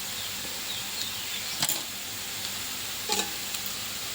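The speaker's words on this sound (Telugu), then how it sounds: "ఈ విధంగా కారం వేసి కలుపుకోవాలండి" Potatoes frying with chili powder in a pan, stirred as they cook: a steady sizzle with a few brief scrapes of the spatula, heard close and alone.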